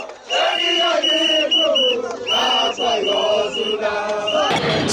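Crowd of Kenyan fans at the London Marathon roaring and shouting in loud, sustained cheers with whoops and whistles, close and continuous, dipping briefly before rising again.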